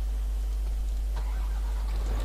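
Car engine in the ARMA III video game: a steady, low, droning engine rumble running throughout, with a faint rise near the end.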